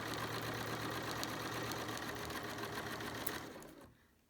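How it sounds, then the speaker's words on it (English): A Bernina sewing machine stitches a face mask seam, a steady fast mechanical whir at close range that runs without a break, then slows and stops near the end. "And removing pins as I sew."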